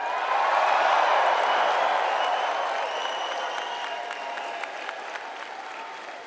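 A crowd at a political rally in British Columbia applauds and cheers, a dense, sustained wash of clapping that fades slowly, heard from some distance.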